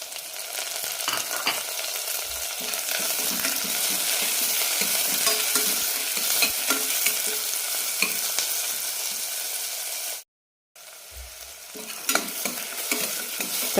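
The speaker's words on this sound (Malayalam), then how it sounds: "തക്കാളി നന്നായി വെന്തളയുന്നവർ വഴറ്റിയെടുക്കാം" Tomatoes sautéing in a pan for a soya chunks curry give a steady, close sizzle with repeated stirring scrapes, broken by a brief gap of silence near the end before the frying resumes.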